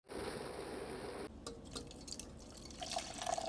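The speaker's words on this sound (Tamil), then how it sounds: "15 நிமிஷத்துக்கு அப்புறம் வடிகட்ட போகிறோம்." Boiled ginger and palm jaggery drink pours and drips through a strainer, a steady trickling stream that shifts to quieter splashes and dribbles after a moment.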